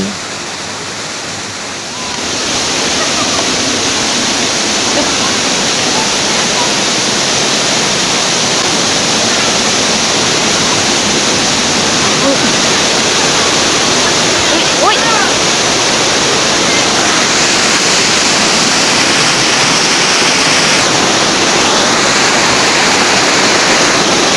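Mae Koeng Luang waterfall roars in a dense, constant wash of falling water, loud and unbroken throughout after a brief quieter opening.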